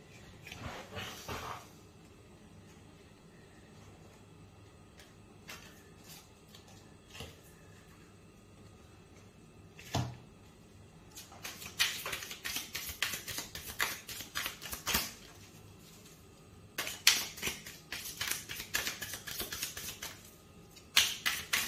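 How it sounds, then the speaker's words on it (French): Board game cards from a large deck are shuffled by hand, with intermittent riffling and clacking bursts of quiet soft rustles near the start and denser, louder bursts later on. "Donc, je dois mélanger dans le deck."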